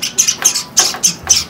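Java sparrow chicks, white and cherry-blossom finch hatchlings, giving rapid, loud, close rasping begging calls in short repeated bursts.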